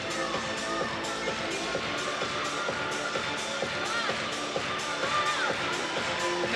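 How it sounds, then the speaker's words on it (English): A crowd at a college gymnastics meet, Ohio State at Michigan, claps in a steady rhythm along to a floor routine, the regular beats running throughout under the routine's music. "And the crowd seems to love it. They're clapping along."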